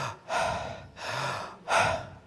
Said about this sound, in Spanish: Esa respiración es yo soy